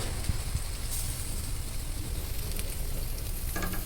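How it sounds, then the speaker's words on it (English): Tri tip searing over a charcoal BBQ pit freshly loaded with Mexican lump charcoal, giving a steady, dense sizzle with a few faint crackles and pops, close and continuous with no talk. "lower this down, get a good sear"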